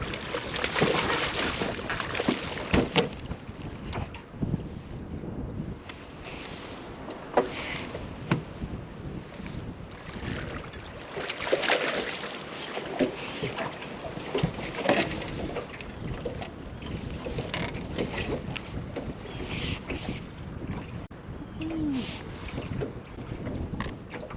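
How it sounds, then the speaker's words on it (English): Strong, gusty wind buffets the microphone in rough, roaring bursts, with choppy water slapping around a bass-fishing boat and no speech. "Man, it is so windy today."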